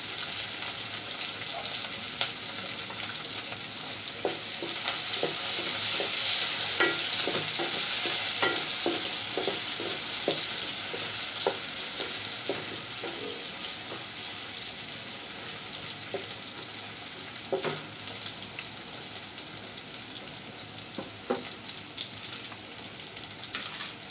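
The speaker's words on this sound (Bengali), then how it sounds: "এই পর্যায়ে আমি পেঁয়াজটা দিয়ে দিচ্ছি, একসাথে ভাজা হয়ে যাবে।" Onions frying in oil together with dried ribbonfish (shutki) in a pan, a steady close sizzle broken by repeated clinks and scrapes of stirring, with no talking.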